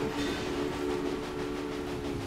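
Express train in the Railway Empire game running steadily, a continuous mid-level rumble with sustained tonal hum and no talk over it.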